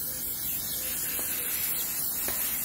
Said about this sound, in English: I spray them.